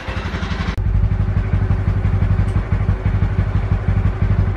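A Honda Super Cub C125 motorcycle engine idles indoors with a steady, close, pulsing putter after an abrupt start, running alone without speech.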